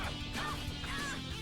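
Bird enemies in the Tales of Vesperia game give a few nasal, honking quacks in quick succession over a steady game soundtrack.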